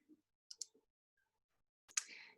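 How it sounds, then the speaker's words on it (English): Computer mouse clicking on a website's green Kids Login button: a few faint, sharp, isolated clicks in near silence, a pair close together and a louder one near the end. "You're going to click it."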